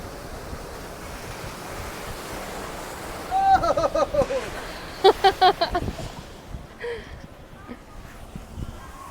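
Ocean surf rolls onto a beach in a steady wash under wind buffeting the microphone, while voices and brief bird-like chirps come and go over the constant noise.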